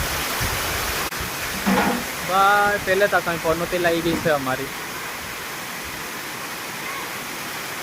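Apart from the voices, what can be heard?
floodwater flowing into the house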